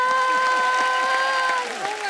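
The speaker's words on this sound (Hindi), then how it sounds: "जोरदार तालियां मुक्ति के लिए।" A studio audience on a Hindi TV comedy talk show applauds beneath loud sustained music tones and what sounds like a voice, the clapping thinning slightly toward the end.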